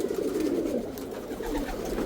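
Pigeons coo steadily at close range, a continuous low murmuring from a flock kept in a loft after a long flight, with no voices over it.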